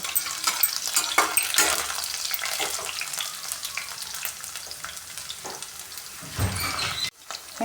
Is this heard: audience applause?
no